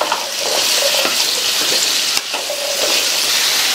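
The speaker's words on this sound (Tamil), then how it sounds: "இந்த கிழங்கை மீடியம் ஃப்ளேம்லையும் ஹை ஃப்ளேம்லையும் மாற்றி மாற்றி வச்சு ஒரு 6 to 7 நிமிஷத்துக்கு வதக்கிக்கோங்க." Potato slices fry in hot oil over a high flame, giving a loud continuous sizzle with soft scraping as a utensil stirs them, close up and without talk.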